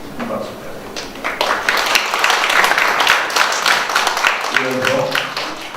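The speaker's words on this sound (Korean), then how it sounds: "김길용 단장님 큰 박수 부탁드립니다." Audience applause at a Korean academic symposium on dance jobs in Jeollabuk-do, a steady wash of clapping for several seconds with a voice speaking briefly near the end.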